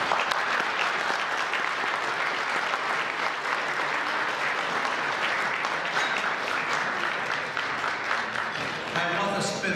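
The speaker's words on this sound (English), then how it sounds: "I would like a round of applause from everybody who had a family member who received one of" Sustained round of applause at an awards dinner during a convention in Montreal, honouring families of scholarship recipients; dense, steady clapping from a large crowd throughout, with a hint of voices at the end.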